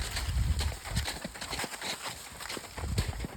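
A herd of horses led by a big dark bay stallion walks past, hooves clopping in a steady, uneven patter close by against a breezy outdoor background.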